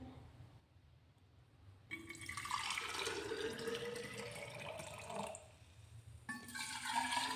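Hot water pours into a thermos flask, a faint gurgling fill that starts and stops in two bursts between quiet pauses, with no voices.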